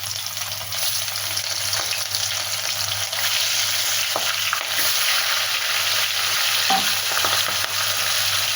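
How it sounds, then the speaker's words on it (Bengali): Pieces of pona fish rubbed with turmeric and salt fry in oil in a karahi, giving a loud continuous sizzle with occasional stirring scrapes and no talking. "মাছগুলো এবারে ভালো করে ভেজে নেব।"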